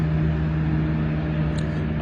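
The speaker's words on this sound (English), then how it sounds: "All that noise is the A465," Steady, continuous road traffic roar from the A465 carries across a quiet lakeside, a constant low rumble with no distinct passing vehicles standing out.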